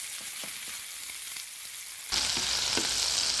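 Greek chicken cubes sizzle steadily as they brown in a hot pan, a continuous close frying hiss that jumps louder partway through, with faint stirring clicks and no talking.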